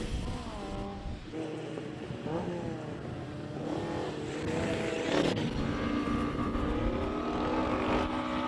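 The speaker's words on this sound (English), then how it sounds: "Aldo Scribanti, 2-liter 4-cylinder Pinto Escort, normally aspirated." A normally aspirated 2-liter four-cylinder Pinto-engined Escort race car pulls away at a classic car speed event in Cape Town. Its engine revs rise and fall through the gears, loud and steady throughout.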